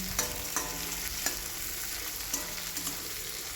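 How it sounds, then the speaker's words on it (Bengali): Bitter gourd fries in hot oil with a close, steady sizzle, broken by several sharp clinks and scrapes of a utensil stirring the pan. "করলাটা আগে ভালো করে ভেজে নেবো তেলের মধ্যে"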